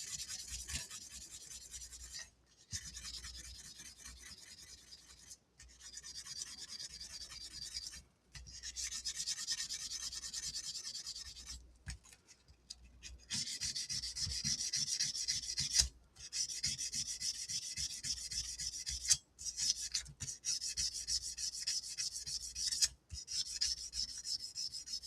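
Guitar frets are polished by hand with fine sandpaper, stepping from 400 up to 3000 grit, making close, steady back-and-forth rubbing strokes in long bursts separated by brief pauses, with no talking.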